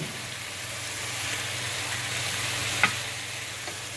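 Vegetables for flank steak fajitas with salsa picante sizzle steadily in a hot pan while being stirred, a continuous close frying hiss with one brief clink of a utensil near the end.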